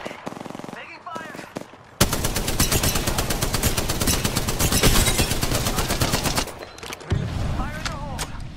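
Sustained automatic gunfire in Apex Legends, a continuous loud rattle of rapid shots lasting several seconds, bracketed by shorter bursts and a few single cracks before and after, with game voices faintly audible around it.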